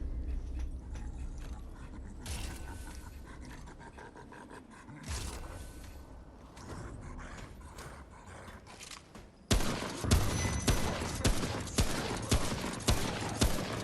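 Video game weapons firing: clusters of sharp shots and mechanical clatter early on, then after a pause a loud, regular series of heavy rhythmic bursts close by.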